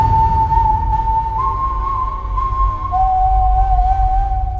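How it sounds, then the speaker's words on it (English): A sinister wolf in the animated film Puss in Boots whistles a slow, spine-tingling tune, one clear sustained whistle that holds and then drops in pitch, loud over a low rumbling background. "The sinister wolf announces himself by whistling a slow,"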